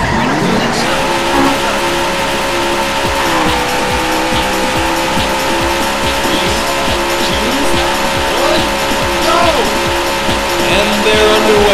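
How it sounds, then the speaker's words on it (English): Race cars start off in the Daytona USA arcade racing game, with engines droning loudly, tires squealing and skidding, and an announcer's voice over the continuous roar of the pack. "Gentlemen, start your engine."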